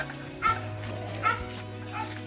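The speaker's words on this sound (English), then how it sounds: "it's feeding time for the dogs here at the farm." Dogs on a farm at feeding time, giving a few close, excited barks and yips with whimpering in between, against a steady hum.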